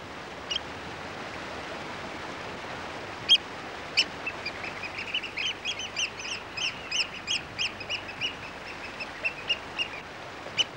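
A South Island pied oystercatcher displays on a North Island river, a series of sharp piping calls that start sparse and then run in a rapid, steady rhythm, fairly close over a soft, constant background hiss.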